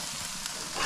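Burgers fry on a grill with a soft, steady sizzle and faint crackle, quiet and close, with no talking over it.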